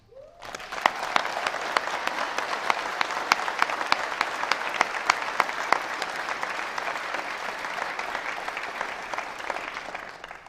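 Sustained audience applause welcoming the 2021 graduates at a Manchester University commencement ceremony, a dense steady wash of many hands clapping that holds strong for about ten seconds with no talking over it.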